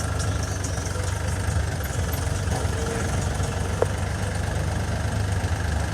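A tractor engine idles steadily outdoors during volunteer soil-service work at Dera Baba Nanak, a constant low rumble with a faint knocking throb and one brief click midway, no voices.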